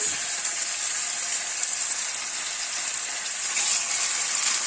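Veal pieces sear in hot oil inside a preheated pot, giving a steady, close, bright sizzle that holds evenly throughout with no talking.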